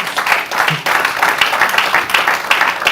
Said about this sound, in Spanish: Dale otro fuerte aplauso a Jesús.